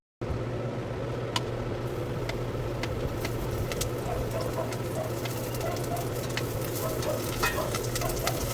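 Pork adobo cooking in a hot pan with onions, a steady dense sizzle with scattered sharp pops and crackles throughout, close and continuous.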